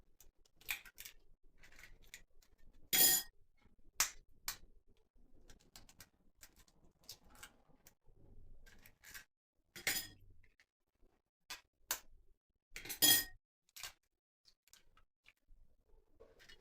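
Three eggs are cracked onto oat flakes in a quiet kitchen, with a scattering of sharp, crisp taps and clicks, a few louder snaps among faint handling noises.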